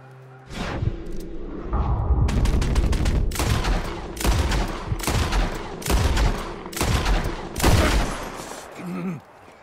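Gunfire in Red Dead Redemption 2 comes as a loud, close volley of repeated sharp shots, some in rapid clusters and some as single heavy blasts, with short gaps between them.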